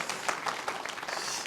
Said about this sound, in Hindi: हाँ तालियां ज़रूर बजा सकते